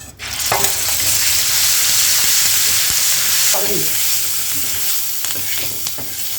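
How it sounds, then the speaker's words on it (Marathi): Crushed green chili thecha sizzles and fries steadily in a hot pan as a tempering is added, with a loud continuous crackle and occasional stirring clinks. "आता तवा गरम झालेला आहे आता आपण तडका देऊ"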